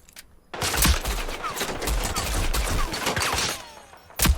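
Rapid pistol gunfire from the video game Rogue Company, a dense run of sharp shots crackling loudly and almost continuously for about three seconds, then one more close shot near the end.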